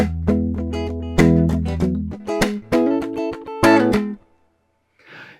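A guitar strums a movable riff over a 16th-note rhythm with accented backbeats, in choppy bursts of chords with short gaps, fading out to near silence at the end.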